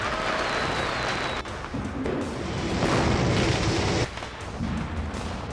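Fireworks go off at a party in a deleted Marvel film scene, giving a dense, loud wash of crackling bursts and booms with a couple of sudden drops in intensity.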